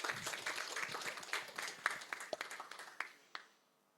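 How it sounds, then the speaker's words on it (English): A workshop audience claps for an economics and business professor taking the floor, a lively burst of applause that thins into scattered individual claps before fading out. "Please give him applause."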